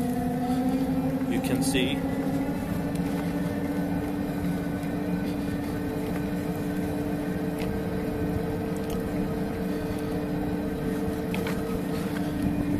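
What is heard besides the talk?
250W bicycle hub motor running while cranks spin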